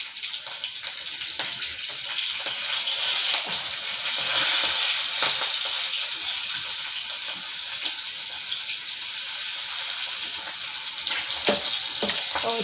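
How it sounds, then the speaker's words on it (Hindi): Green chillies frying in a pan for a hotel-style cauliflower and pea curry, a steady close sizzle with light stirring scrapes throughout, no talk. "अब हम हरी मिर्च को डालेंगे। अच्छे से भून लेंगे।"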